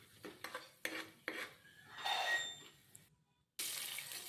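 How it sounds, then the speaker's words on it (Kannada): Mustard seeds and cumin go into hot oil in a pressure cooker for quick broken-wheat upma, giving light scraping and stirring bursts with metallic clinks, a brief louder crackling sizzle, then a short pause before a steady hiss resumes. "ಈಗ ಎಣ್ಣೆ ಹಾಕಿದ್ಮೇಲೆ ಸಾಸಿವೆ, ನಂತರ ಜೀರಿಗೆ ಹಾಕೊಳ್ಳೋಣ"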